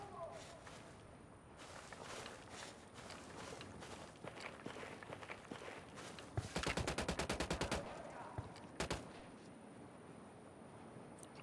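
Gunfire in Ghost Recon Wildlands, a tactical shooter: scattered shots amid movement, then a rapid burst of automatic fire and a couple of later shots, with talk throughout.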